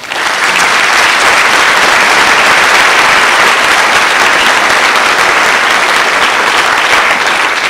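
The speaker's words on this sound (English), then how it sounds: "So I'd like to give them a round of applause." Loud, dense applause from an audience at a National Honor Society ceremony, honoring teachers, sustained and even throughout.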